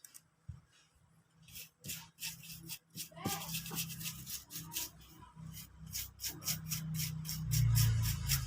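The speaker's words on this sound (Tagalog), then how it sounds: "Linisin natin ito kasi maraming bakat na hinang." Brush or cloth scrubbing solder flux residue off a repaired LPOO1 power supply circuit board with cleaner, a steady close rasping rub in quick repeated strokes, growing louder toward the end.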